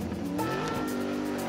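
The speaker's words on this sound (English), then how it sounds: "The cat car surges forward." A cartoon cat car surging forward, its engine revving up in rising pitch with a touch of tire squeal, loud and close, with no voices over it.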